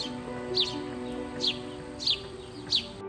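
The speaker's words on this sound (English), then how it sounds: "These birds were caught on trail cam while chirping and enjoying a sand bath in the middle of the woods." Small birds chirping while taking a sand bath in the woods, recorded by a trail camera: four brief high chirps at roughly even intervals over a steady, tonal background hum.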